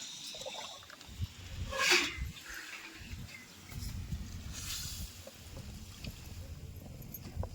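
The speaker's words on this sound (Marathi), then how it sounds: "तोपर्यंत शिजाय पुरतं पाणी ओतणार आहे आपण" Water pours into a pan of drumstick and egg curry with a short splashing gush. A quieter slosh and trickle follow at close range.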